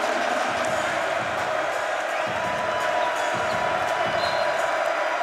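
A packed basketball arena crowd at a Texas home game against Sam Houston State roars in a dense, continuous wash of cheering, with a commentator's voice faintly over the top.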